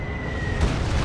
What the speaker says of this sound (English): I feel like that's kind of a lot of resources to blow up a fighting position, but okay. Fighting position destroyed.